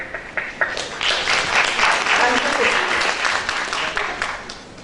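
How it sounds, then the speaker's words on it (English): An audience breaks into applause for the men present, starting with scattered claps that swell into steady, full clapping and taper slightly near the end. "So this applause is for all the men."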